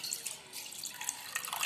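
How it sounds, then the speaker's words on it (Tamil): A tumbler of water poured steadily into a vessel in a home kitchen, a close, continuous splashing trickle with small bright drips throughout. "நான் பாருங்க 1 டம்ளர் தண்ணி சேர்த்துக்கிறேன்"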